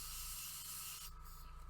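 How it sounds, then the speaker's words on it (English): An airbrush sprays paint onto a Thousand Sons Land Raider miniature tank model in a steady, faint hiss, cutting off after about a second over a low background hum. "The important thing is to control the direction of the spray."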